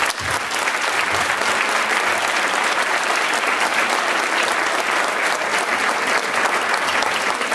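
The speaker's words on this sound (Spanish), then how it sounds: "Por ello, un fuerte aplauso." A large festival crowd applauds the 2016 neighbourhood queens of Barrio de San Roque in Novelda, a dense, loud, continuous roar of clapping that holds steady throughout.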